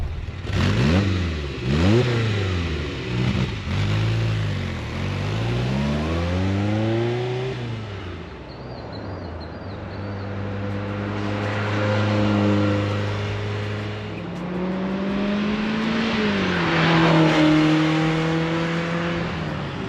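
A restored 1979 Ferrari Dino 308 GT4 on a test drive, its engine loud and close as it revs up repeatedly through rising and falling sweeps, then holds steadier tones while cruising, with wind and road noise underneath.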